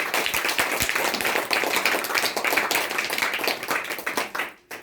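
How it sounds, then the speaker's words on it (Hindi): An audience gives a loud, sustained burst of clapping at a direct-selling company event, dense and continuous before dropping away abruptly at the end. "हम चाहेंगे मोदी केयर के लिए एक जोरदार ताली हो जाए,"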